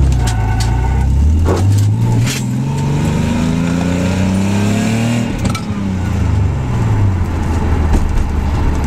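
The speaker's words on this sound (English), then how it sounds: "the car is running again, I've got a misfire issue" A Z car engine with a misfire runs loud and close, its low exhaust note rising and falling through several revs with uneven, stumbling pulses and sharp pops along the way.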